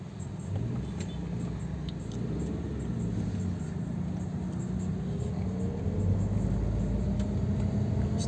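A car with a Blackcore tune-up rounds a bend in second gear, its engine holding a steady mid-pitched hum and rumble from inside the cabin, with faint road noise and slight pitch shifts as it pulls through.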